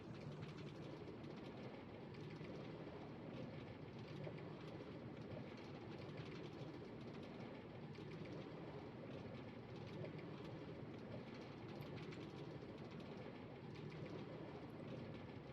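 Metro train running along rails in Minecraft, a steady, even rolling rumble with faint clicking that stays constant throughout, with no voices.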